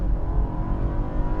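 A 2020 BMW X3 sDrive30i engine roars loudly under hard acceleration, a close, continuous rising drone filling the short moment.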